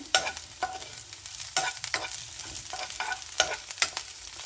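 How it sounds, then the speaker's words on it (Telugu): A tempering of curry leaves frying in oil for a carrot fry, with a soft sizzle broken by repeated clattering spoon strokes stirring the pan at an uneven rhythm, close up and without speech. "తాలింపు వేగుతూ ఉన్నది"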